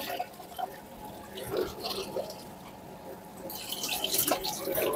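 Water splashing and trickling during a backwash of a 12-inch PVC water filter tank, a steady low gush that grows louder and more spattering toward the end.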